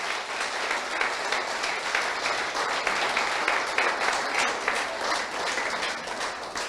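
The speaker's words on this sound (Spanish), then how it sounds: "dale un aplauso a Dios" A church congregation applauds together, a dense, continuous wash of clapping that holds steady and close for several seconds with no breaks.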